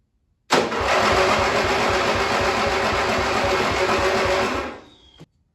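A small ride-on mower engine sputters to life and runs loud and steady at a rough, rattling idle for several seconds before cutting off abruptly.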